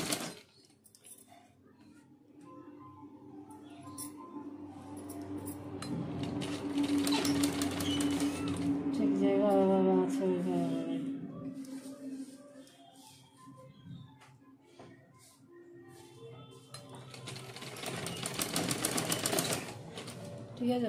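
A sewing machine runs in bursts, stitching around the edges of a blouse piece with a backing laid on the fabric. Its whirring comes up close and fairly loud, then pauses, then starts again.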